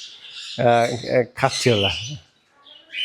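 Yellow ringneck parakeets in an open aviary give brief, high squawks and chirps at the start and again at the end, with someone talking loudly in between.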